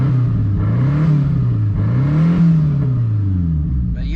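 A 1988 Ford Thunderbird Turbo Coupe, revived after sitting twenty years, revs hard and close, its engine note rising and falling twice as the RPMs are pushed up with little boost.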